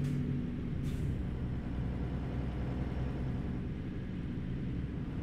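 Modded heavy truck engine in American Truck Simulator drones steadily at close range with a low, rumbling idle-to-cruise tone, a brief hiss like an air brake release near the start, no talking over it.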